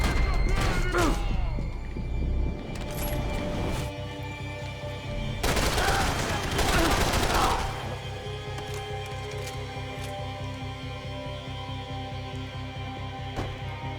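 Gunfire in Max Payne 3 crackles in heavy bursts at the start and again in the middle, over a steady low rumble of music and ambience, then fades to the background drone.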